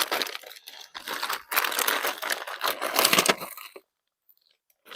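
Close, bursty crinkling of a zip-lock plastic bag being handled for a few seconds, then quiet with a faint rustle at the very end.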